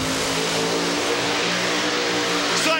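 Maximum Destruction monster truck engine roaring during a freestyle run at the Monster Jam World Finals VII stadium: a loud, sustained, droning engine with steady harmonic growl, dense arena noise underneath.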